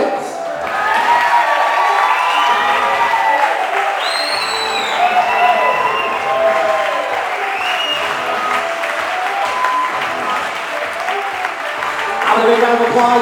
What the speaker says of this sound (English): Ladies and gentlemen, have a big round of applause for the father of the bride